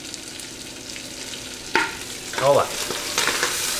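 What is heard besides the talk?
hot oil sizzling while cooking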